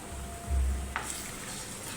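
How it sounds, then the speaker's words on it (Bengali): Fried onions with a tablespoon each of ginger paste and garlic paste sizzling in a pan, with a dull low thump and a sharp utensil click breaking a steady, moderate frying hiss. "দিয়ে এগুলাকে কিছুক্ষণ কষিয়ে নিচ্ছি"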